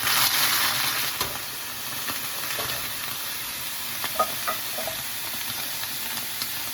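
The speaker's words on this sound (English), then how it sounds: "Add those green beans in there." Green beans hit a preheated pan for a steak and green bean casserole, giving a steady close sizzle with a louder burst at the start and scattered stirring clicks and pops throughout.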